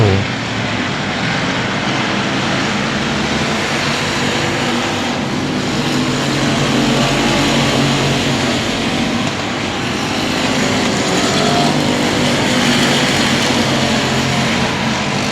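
Race cars circle the I-37 Speedway oval in the closing laps of a short-track race, their engines a loud, steady roar across the whole stretch with a swelling pass midway.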